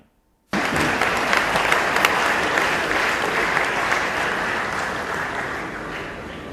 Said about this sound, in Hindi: आपसे अनुरोध है कि आप आज के डेट में फिर से ताली बजाएं।